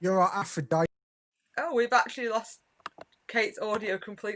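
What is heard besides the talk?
No distinct noise like a dog, phone or traffic.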